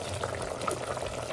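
Country chicken curry simmers in a pot on a wood-fired stove, a soft continuous bubbling and gentle crackle heard close up and fairly quiet, with no talk.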